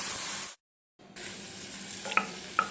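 Chopped tomatoes, onion and garlic frying in a pan for tomato soup, a soft steady sizzle with a brief gap and a couple of light stirring clinks near the end.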